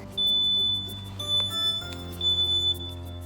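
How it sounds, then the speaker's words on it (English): A smoke alarm shrills with steady high-pitched tones, sounding in short repeated bursts over a low background hum. "as she hears her smoke alarm goes off"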